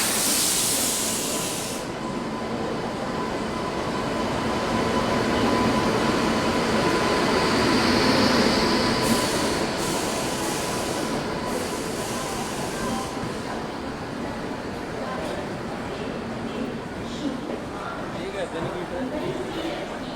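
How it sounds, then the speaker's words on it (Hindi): Chennai Rajdhani Express pulling into a station, a steady broad rumble with hissing and rail noise building and holding for about twenty seconds, with voices talking over it. "अपने शेड्यूल टाइम से लगभग 7 मिनट की देरी से ये आ चुकी है अपनी चेन्नई राजधानी एक्सप्रेस"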